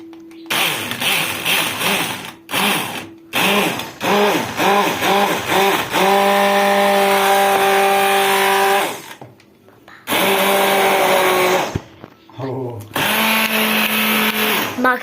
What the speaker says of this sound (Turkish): Şimdi eee mikserimizle çekeceğiz.